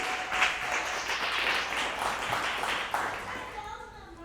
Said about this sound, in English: can we get one more round of applause for your speaker, Jack Harvey, today?